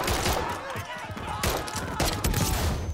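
Gunfire strikes the player in Modern Warfare III, a dense, crackling burst of shots and thuds running through the whole moment over a busy game soundscape, with a voice in the mix.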